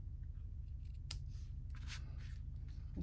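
Scissors snip through a knotted ribbon tie on a handmade stamp-club card, a few quiet close cuts over faint background hiss.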